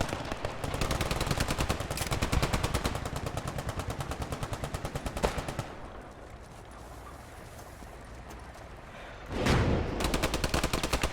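Warning fire in the video game Post Scriptum comes as long, rapid machine-gun bursts, loud and close, with a brief lull and then another burst near the end. No one talks.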